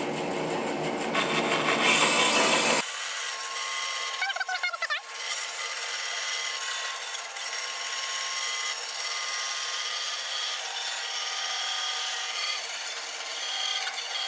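A saw cutting a shelf piece of wood, a continuous rough rubbing rasp held at steady loudness, close and without talk, after a brief louder burst at the start.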